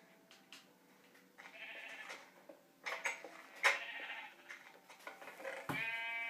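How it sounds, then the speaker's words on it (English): Sheep in a mining video game bleat several times in short, wavering calls spread across the moment, fairly close, with clinks and game sounds between them and no talking. "Oh, a sheep is smart enough to find his way up."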